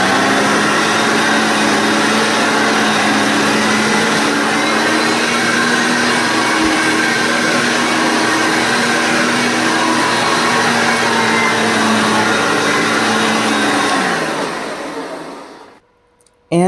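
A Hoover Concept 1 upright vacuum cleaner runs with a loud, steady motor whine and airflow roar for about fourteen seconds, then winds down to silence, followed by a brief click at the end.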